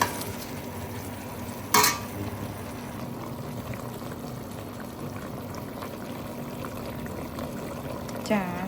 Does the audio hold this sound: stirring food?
yes